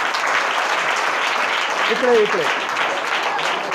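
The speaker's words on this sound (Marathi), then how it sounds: "टाळ्या वाजवा" A school audience claps steadily through a lecture, a dense, even wash of applause lasting the whole moment while a voice speaks briefly over it.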